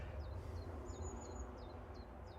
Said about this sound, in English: A very loud bird near us.